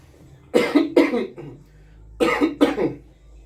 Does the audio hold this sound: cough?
yes